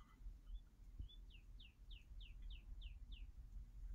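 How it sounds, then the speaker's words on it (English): A bird outdoors on a Texas winter morning after rain repeats a run of about eight quick, evenly spaced descending whistled notes, distant and fairly faint over a low rumbling background. "The rain is gone and the birds are singing."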